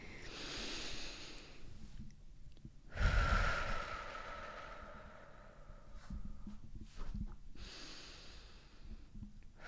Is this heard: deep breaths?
yes